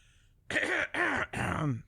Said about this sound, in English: I'm gonna need to clear my throat for this one